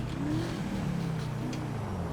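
Steady engine drone with a rising, revving pitch as an Albany V-STR sports car accelerates on a top speed run in GTA 5, continuous and fairly loud throughout with no talking.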